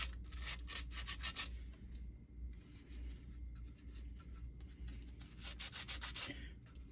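Sandpaper of 150 grit rubbing over a resin 3D print, giving repeated short scratchy strokes in bursts, close and fairly quiet, with no talking.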